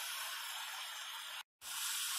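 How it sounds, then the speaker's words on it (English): Meat searing in a screaming hot pan for a tender roast, giving a loud, steady, broadband sizzle that cuts out for a moment and then resumes just as strong. "You just want to get your pan screaming hot so you get a little color on your meat. Sear it on both sides"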